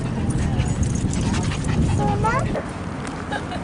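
A puppy whimpers and whines in thin, rising squeaks, mixed with people talking nearby and some rustling.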